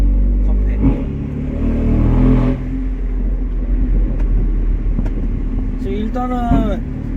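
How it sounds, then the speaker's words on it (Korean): A BMW M4 convertible with its top down and a tuned exhaust rumbles steadily while driving, with a brief rev near the end and someone talking over the engine. "차량 바로 그 차량입니다 BMW M4"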